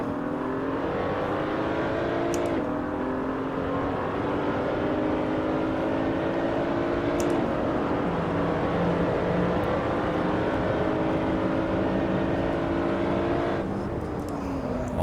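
BMW Z4 race car engine in Assetto Corsa on the short Nurburgring layout, rising and falling through gears with steady loud revving throughout, interrupted by brief shift breaks.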